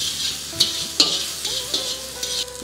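Eggplant and onions frying and being stirred in a pan for a wedding-style vegetable sambar, a steady close sizzle broken by several sharp scrapes and clinks of the spoon, no voices.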